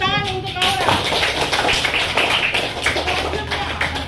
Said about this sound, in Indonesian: tepuk tangan untuk Aura.